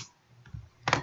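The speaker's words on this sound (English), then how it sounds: "I'm just typing some stuff" A few faint, quick clicks of typing on a computer keyboard, close by in a quiet room with no talking.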